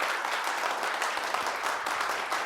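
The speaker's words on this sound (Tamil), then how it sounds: "ஜோரா மீண்டும் ஒரு தடவை கைத்தட்டி நம்ம வெல்கம் பண்ணிடலாம்" Studio audience applauding steadily to welcome guests on a Tamil TV game show, a dense, even wash of clapping throughout with no talk over it.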